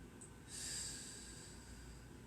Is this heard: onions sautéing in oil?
no